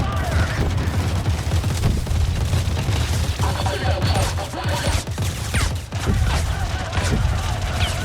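Dense gunfire and explosions from a Star Citizen machinima battle, a loud continuous fusillade of rapid shots and booms throughout, with faint voices underneath.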